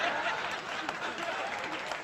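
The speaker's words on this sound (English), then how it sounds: "they're clapping along" Audience clapping along during a talk, a steady wash of many hands with scattered chuckles, moderately faint and continuous throughout.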